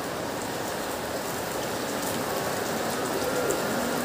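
Steady rain pours down continuously, a dense hiss of drops spattering on a surface with no voices, loud and close throughout.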